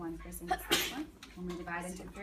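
A student sneezes once, sharply and fairly close, in a classroom while a teacher keeps talking through a lesson on dividing into thirds.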